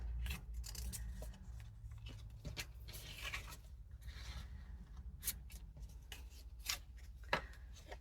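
Scissors trim paper for a junk journal, with several quiet, close snips and rustles spaced irregularly over a soft background, and no talking.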